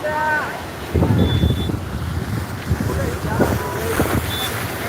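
Floodwater rushes in the Painganga river with a broad, steady roar and gusts of wind buffeting the microphone, while someone talks over it.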